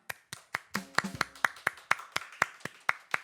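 A church congregation claps in thanks during a worship service, about a dozen sharp, evenly spaced claps in a steady beat, with a brief musical tone partway through.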